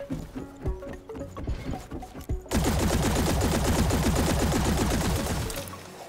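The Duonic gun in the video game Hawked fires a loud, rapid automatic stream of shots lasting about three seconds, following a few quieter in-game sounds.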